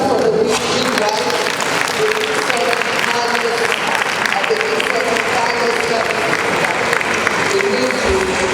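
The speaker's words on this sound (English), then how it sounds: "Are we clapping for the midwives?" A crowd claps for midwives at a first lady's visit in Ilorin, sustained dense applause throughout, loud and near, with cheering voices mixed in.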